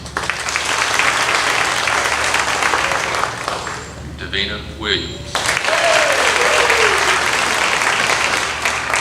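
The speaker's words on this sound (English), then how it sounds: "Please join me in giving these students a round of applause." Loud, thick applause from a graduation ceremony crowd for high school graduates, breaking off briefly while a name is announced over a speaker, then resuming at full strength.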